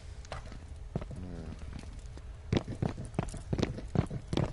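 Footsteps in the video game Firewall, a series of distinct thudding steps that grow louder and closer over a few seconds, with a faint voice briefly present.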